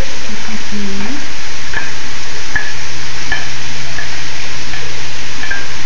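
Celery sautéing in a pan for Thanksgiving stuffing, a loud, constant frying hiss with occasional light ticks of a utensil against the pan; no talking.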